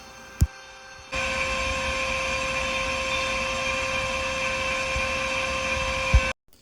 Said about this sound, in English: I built a CNC from a kit online. It'll cut 4x8 sheet material